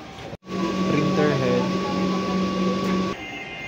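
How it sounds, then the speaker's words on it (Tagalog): A printer's mechanism whirs and hums steadily during a head cleaning cycle after a brief pause, with a thin tonal whine running through the motor noise before it drops off. "Printer head clean."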